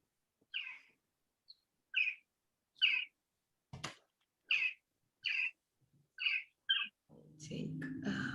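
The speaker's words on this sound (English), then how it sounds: "the birds are singing somewhere. Okay, I can hear that." Birds sing outdoors in the Netherlands: a series of short, clear chirping phrases repeats at roughly even intervals against near silence, followed by a low rumbling noise at the end.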